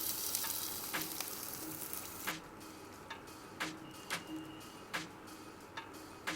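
Rice being stirred into garlic chicken frying in a pan: a soft continuous sizzle under a series of sharp scraping and clinking spoon strokes at irregular intervals, close and moderately quiet.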